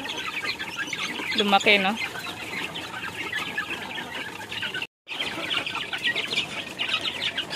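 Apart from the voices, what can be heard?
Rhode Island chickens clucking at feeding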